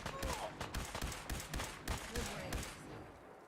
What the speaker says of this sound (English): there's still lasers shooting from over there in the direction that we need to go